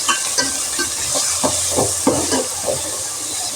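Bajji batter being stirred with salt and turmeric for Rayalaseema-style ugani bajji, a series of soft, rhythmic stirring strokes over a steady background hiss, with no talking.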